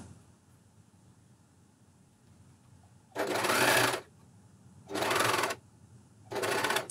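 A Juki MCS1500 coverstitch machine runs in three distinct bursts, a long one of about a second followed by two shorter runs, loud and close with quiet pauses between.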